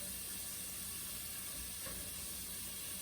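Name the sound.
vegetables browning in a pan with cumin and cinnamon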